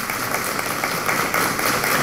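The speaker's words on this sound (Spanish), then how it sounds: "Un aplauso para ustedes" Live audience applause at a Puerto Rican comedy show, a steady dense wash of many hands clapping at once, loud and continuous throughout without a break.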